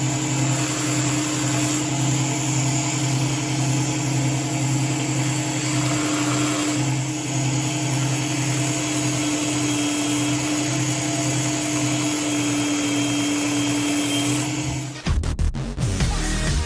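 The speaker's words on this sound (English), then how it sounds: "hitting it with the sander, it actually seems to be working pretty good" A power sander runs steadily against a handmade fishing lure, giving a continuous whirring drone for about fifteen seconds before cutting off into a few brief clunks.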